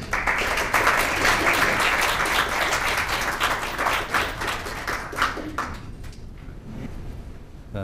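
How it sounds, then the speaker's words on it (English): An audience applauds to welcome Dae Bong Sunim to the stage for an evening talk on Korean Buddhism, the dense, steady clapping filling the room before thinning out and fading toward the end. "please join me in welcoming Dae Bong Sunim with a warm round of applause"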